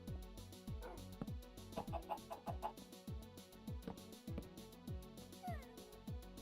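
Minecraft chickens cluck in a series of short, regularly spaced notes, a repeating pattern of clucks heard alone without any talk over it.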